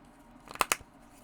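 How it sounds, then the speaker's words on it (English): Gothic Tarot cards, like playing cards in feel, riffle and flick briefly in two or three quick papery bursts, close and fairly quiet against a faint background. "So do some shuffling here. And the cards are like playing cards."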